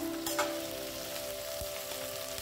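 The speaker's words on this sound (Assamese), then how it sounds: "তাৰপিছত গেছৰ ফ্লেমটো মিডিয়াম কৰি এইখিনি মই লৰাই লৰাই ভাজি থাকিলোঁ।" Chicken with green chillies sizzles and fries steadily in a pan over a medium gas flame, with a constant soft crackle and an occasional light scrape of stirring, and no voices.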